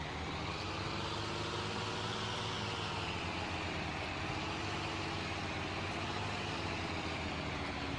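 Tractor engine in a farming video game, a steady low idling rumble with a layered harmonic drone, constant and moderately quiet with no talking.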